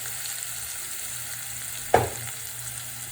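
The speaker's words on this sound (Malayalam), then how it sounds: "ഉള്ളി ഏകദേശം ഒന്ന് പാലിൽ കൂടുതൽ മൂത്ത് വന്നിട്ടുണ്ട്" Onion frying in a pan for a jackfruit seed thoran, a steady close sizzle with one brief louder clack of a utensil partway through.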